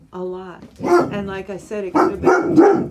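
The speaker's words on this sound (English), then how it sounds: "that's my dog." A pet dog barks in a home, several sharp close barks mixed with a person talking over them.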